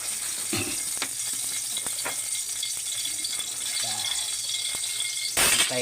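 A little cooking oil heating in a frying pan gives a faint, steady hiss with soft scattered crackles, joined by a few light clinks of a utensil and a brief louder scrape near the end.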